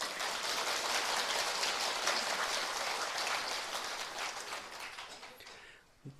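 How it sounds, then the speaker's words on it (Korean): An audience at a Buddhist dharma talk applauds together in a dense, sustained clatter of clapping, fairly distant, that holds steady and then thins out toward the end. "맞으면 박수 한번 치시죠."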